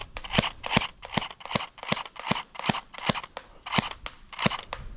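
An electric airsoft pistol fires BBs at a target in a quick, steady series of about a dozen crisp snapping shots. Each shot ends with a short thwack, all heard close up.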